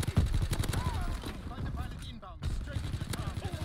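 Gunfire bursts from the World War II shooter Call of Duty WW2, rapid shots layered under a player's excited talk, with a brief lull near the middle before the firing resumes.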